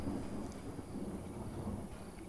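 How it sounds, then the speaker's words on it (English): Thunderstorm on an alien planet in a survival game, a low continuous rumble of thunder with steady rain hiss, moderately quiet and heard alone. "Nice. Another thunderstorm."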